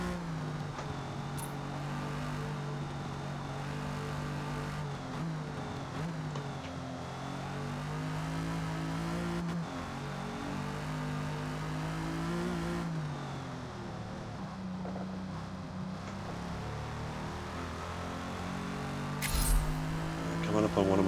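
A race car's engine drones steadily through a first lap, its pitch rising and falling through gear changes as it accelerates toward corners, loud and continuous with the driver talking over it.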